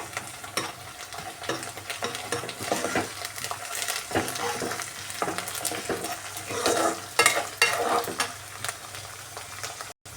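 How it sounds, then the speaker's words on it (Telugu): Ginger paste fries in a pan while it is stirred, giving a steady close-up sizzle with scraping and stirring noises throughout and no talking. "అల్లం పేస్ట్ కొద్దిగా ఒక స్పూన్ వేసుకుందామండి ఒక రెండు నిమిషాలు బాగా ఫ్రై చేయండి పచ్చివాసన పోయే వరకు"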